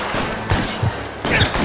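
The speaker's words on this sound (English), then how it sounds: "Where are they shooting from?" Gunfire in L.A. Noire during a police shootout, a few sharp shots crackling at irregular intervals over a steady rumbling background.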